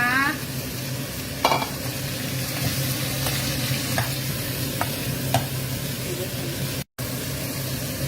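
Flowering garlic chives go into a hot stir-fry that sizzles constantly and close by, with scattered spatula clinks against the pan and a brief gap of near-silence toward the end.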